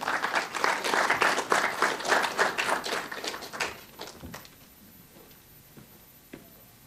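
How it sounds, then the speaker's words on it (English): Audience applause for a minister at the opening of the Curaçao International Sports Week 2023: dense, loud clapping for about four seconds, then it thins out into a few scattered claps and quiet room noise. "A round of applause for the minister"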